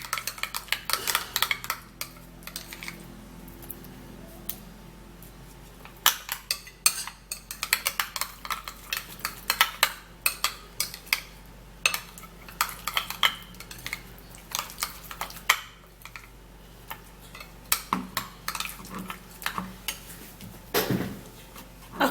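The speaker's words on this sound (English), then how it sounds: "I'm going to be putting the rosemary into this remedy and stir it all up really well" A spoon stirs chopped rosemary into an onion skin remedy in a bowl, giving a steady run of close, light clinks and scrapes that come in irregular bursts, with no voices.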